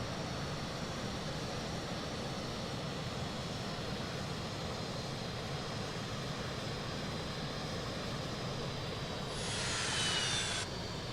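A Boeing 777-300ER's engines in a flight simulator give a steady, even roar of jet noise that holds throughout, with a brief hiss rising near the end.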